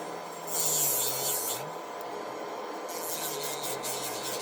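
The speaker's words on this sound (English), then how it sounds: "I only want to do a light sanding." Light rasping of a file over fingernails, a soft scratchy rubbing that comes in short bursts with a low motor hum underneath.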